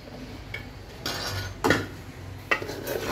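Vegetables stirred in a cooking pan with a spoon; several clinks and scrapes of metal against the pot stand out, with two sharper knocks, over a quiet kitchen background.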